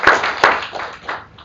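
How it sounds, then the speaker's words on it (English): Brief applause from a meetup audience at an evening tech community event, a short burst of a few hand claps that quickly thins out. "I think just a round of applause is really great."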